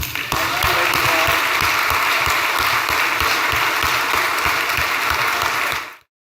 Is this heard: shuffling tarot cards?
no